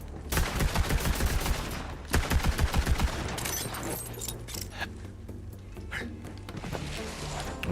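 Rapid bursts of weapon fire in Borderlands 3 rattle out in two quick rhythmic volleys, followed by scattered game effects and clanks under a player's voice.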